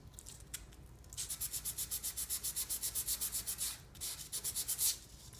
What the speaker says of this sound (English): About an inch of the coating off on either end. So now you can put the sandpaper away.